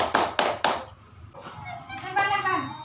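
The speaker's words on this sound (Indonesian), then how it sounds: "tepuk tangan." Third-grade children clap together in an Islamic primary school classroom during a religion lesson. Three sharp, loud claps in unison come first, then children's voices carry on talking.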